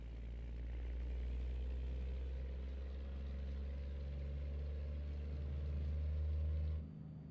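A semi truck's engine idles at a rest area in a trucking video game, a steady, deep droning rumble that holds evenly throughout before cutting off abruptly near the end.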